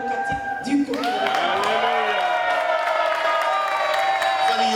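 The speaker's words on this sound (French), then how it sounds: "On applaudit encore une fois, s'il vous plaît, ladies and gentlemen, Fanny." Audience at a Congolese independence celebration in Washington, DC applauding and cheering steadily, with whoops and crowd noise sustained throughout and a voice speaking briefly at the start.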